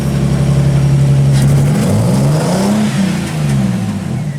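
A Nissan 300ZX with an exhaust leak rises from a rough idle into a loud revving surge, its pitch sweeping up and down before settling, heard up close with no talking.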